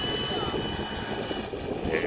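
A Seagull Funfly 3D RC airplane's engine runs loud and close as it prepares for takeoff, with a steady buzzing drone and wind noise.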